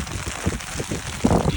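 Rain and hail falling on a mountainside on Kodiak, a close, steady hiss of pattering with low, gusty rumbles.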